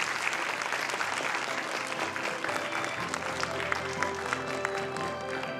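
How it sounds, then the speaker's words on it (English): Sustained applause from an audience after a lecture at an award ceremony, dense steady clapping throughout at an even level, with faint background voices and no pause. "Let's give him another warm round of applause."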